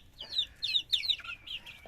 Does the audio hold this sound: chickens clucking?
yes